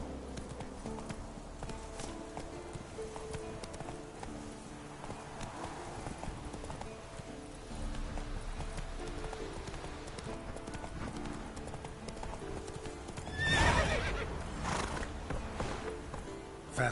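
Roach the horse gallops in The Witcher 3, a continuous rapid clip-clop of hooves with game music underneath and a brief louder burst near the end, loud and close.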